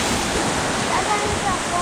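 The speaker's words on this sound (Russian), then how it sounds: "Сегодня очень большие волны." Large sea waves break steadily on the shore of a Greek coastline beside an old church, a continuous broadband roar with some wind buffeting the microphone and no distinct pauses between surges.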